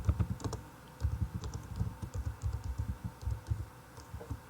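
Rapid, steady clicking of keys on a computer keyboard, heard close and alone in short bursts with brief pauses between words.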